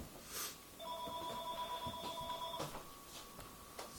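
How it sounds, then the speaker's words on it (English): A telephone rings in a room, a steady electronic trill held for about two seconds and then cut off, heard fairly faintly with no one speaking. "The phone."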